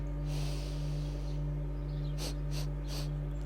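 Three quick, sharp nasal sniffs, taken one after another at the top of an inhale during a breathing exercise. They are close and clear over a steady low electrical hum, with no talking.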